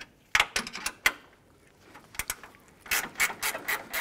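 Ratchet snugging a bolt on the A/C condenser of a 2012–2017 Toyota Camry, with quick bursts of clicking pawl strokes separated by pauses and a longer run of ratcheting near the end, close up.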